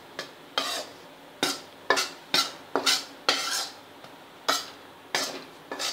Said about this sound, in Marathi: असं हलवल्यामुळे बरोबर सगळीकडे सारखं भाजलं जातं ते.